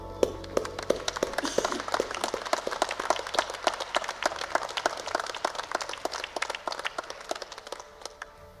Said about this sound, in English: Graduates, please stand and turn towards your family and friends here today and join me in a vigorous round of